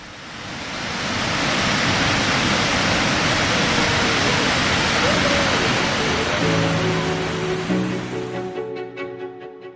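Dangar Falls near Dorrigo, New South Wales, roars as a steady, broad rush of falling water, constant and enveloping, with a few faint tonal sounds near the end before it cuts off.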